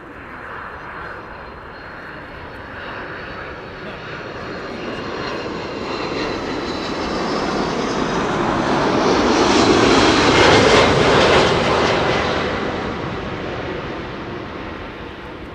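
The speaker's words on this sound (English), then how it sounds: "upon landing with the main gear, you can see that the fuselage is turning to the right" Fixed-wing airliner landing at Amsterdam Schiphol Airport in a crosswind from the left, its engine roar rising steadily to a loud peak as it passes close, then fading away, with no talk over it.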